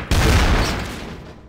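A loud, close burst of gunfire in the video game Trouble in Terrorist Town: a dense, booming volley that starts sharply and fades out over about a second and a half.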